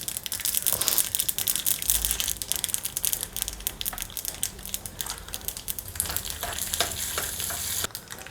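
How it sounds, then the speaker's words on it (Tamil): Turkey berries fry in hot oil on a low flame, giving a dense, continuous crackle and sizzle with bursts of stirring and crunching, close and fairly loud throughout. "இந்த சுண்டைக்காய் பொரியணும் நல்லா எண்ணெயில் சிம்மில் வச்சுன்னு பொரிச்சிடும்போது"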